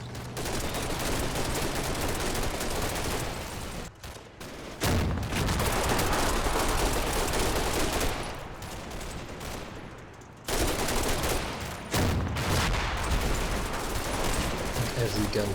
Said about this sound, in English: Every gun from 70 platoon fires on the farmhouse